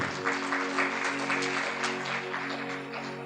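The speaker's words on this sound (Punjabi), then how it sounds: "ਤਾਲੀ ਮਾਰੀਏ ਜ਼ੋਰ ਦੇ ਨਾਲ" Sermon listeners clap forcefully together, a thick steady patter of many hands over sustained held keyboard-like notes, heard from some distance without speech.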